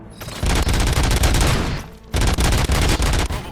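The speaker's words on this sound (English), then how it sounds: "Gunshots? What's going on?" Two long bursts of rapid automatic gunfire in the video game Robocop: Rogue City rattle loudly, separated by a brief pause, each a dense stream of sharp cracks.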